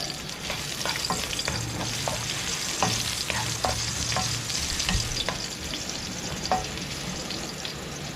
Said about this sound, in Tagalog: Tayo naman yung gigisa. Lagyan natin itong luya.